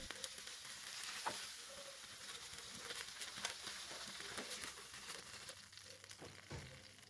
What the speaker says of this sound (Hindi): दूसरी साइड को भी इसी तरह से 3 मिनट तक ग्रिल करेंगे।